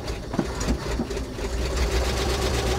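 A 1980 Dodge engine, abandoned for 22 years, idles with a rough, uneven chugging rhythm and faint knocking, steady and close for a few seconds.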